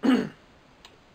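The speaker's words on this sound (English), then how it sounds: "Sorry about that, I keep coughing." A single short, harsh cough or throat-clear, close and abrupt, followed by near silence and a faint click.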